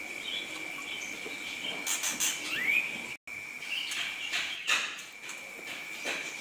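Cililin birds in a semi-natural aviary give a few faint, short chirps and a brief rising whistle against a steady high insect-like drone, with no voices.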